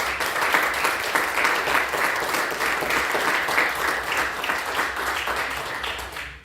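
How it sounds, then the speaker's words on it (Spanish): A church congregation applauds steadily and densely for several seconds, a loud, continuous wash of many hands clapping that tapers slightly toward the end. "Yo creo que le demos un aplauso a él"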